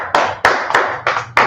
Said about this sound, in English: Let's clap it up again.